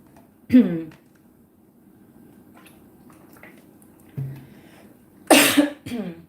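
A sharp cough rings out near the start, followed later by a louder burst of coughing and throat clearing in an otherwise quiet room.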